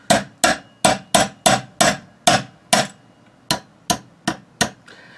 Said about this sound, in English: Got a punch, got a hammer